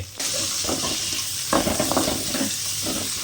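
Two large onions fry in a pan for a country chicken dish, a constant loud sizzle starting abruptly as they hit the oil, with spatula scrapes and stirring clatter layered over it.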